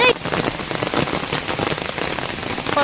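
Heavy rain pours down steadily, drumming hard on surfaces in a dense, continuous roar.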